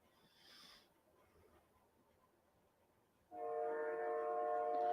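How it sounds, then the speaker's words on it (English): A train passes near a house, first a faint distant horn and then a loud steady rumble with a sustained horn note rising abruptly in the final seconds. "Well, we got trains"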